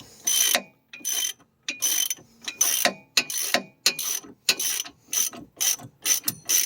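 A socket wrench ratchets in close, loud bursts of clicking, roughly a dozen strokes separated by brief pauses, while a strut is being installed on the passenger-side right of a 2005 Toyota Sienna.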